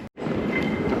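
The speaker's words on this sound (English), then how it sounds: "And here's our train." An airport train in Penang, Malaysia rumbling in with a steady, broad mechanical roar after a brief dropout at the start.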